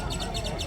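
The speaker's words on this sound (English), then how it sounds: "I think the birds are acting up." Birds chirp and call during a total solar eclipse at the Fort Worth Stockyards in Texas, a short burst of repeated tweets over a dense, busy background.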